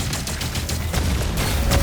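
Dense, continuous gunfire from weapons in the video game DOOM: The Dark Ages, loud, close and booming with rapid overlapping blasts and no break.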